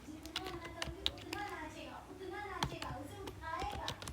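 Computer keyboard typing while entering code, a run of close, quick key clicks over the full stretch, with a voice talking in Hindi alongside.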